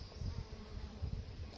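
Honey bees buzzing during a hive inspection, a steady low drone of many bees close by, faint and continuous with no talking.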